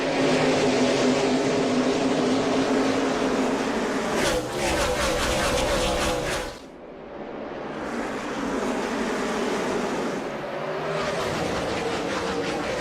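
A pack of NASCAR stock cars roars off at the start of the Napa 500 in a racing game, a loud dense engine drone that dips briefly midway and then swells again, with commentary over it.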